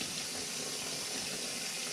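Water pouring steadily from an RV gray tank valve into a collapsible bucket, a constant splashing rush at close range that stays even throughout, with no voices.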